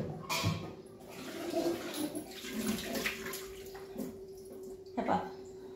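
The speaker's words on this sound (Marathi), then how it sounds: "ह्या गरम पाण्याने हे सगळे काही भांडे आधी स्वच्छ धुवून घ्यायचे" Hot water splashes and runs over greasy pots being rinsed clean in a home kitchen, an uneven wash of sloshing with a steady hum beneath and sharper clatters near the end.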